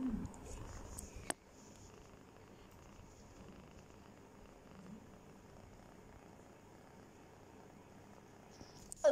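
A Persian cat purrs close by in a steady low rumble lasting several seconds, with a brief sharp knock near the start and some handling noise at the end.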